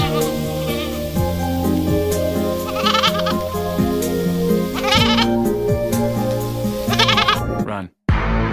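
Several goats bleat loudly and repeatedly, close by and overlapping, with a person calling out among them before a sudden brief cutoff.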